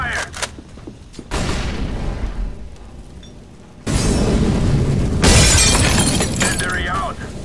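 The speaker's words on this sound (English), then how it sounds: "Throwing fire." An incendiary grenade bursting into fire in the video game CS:GO, with sudden shattering and roaring flame that starts partway through and keeps crackling loudly, while game voice callouts are heard.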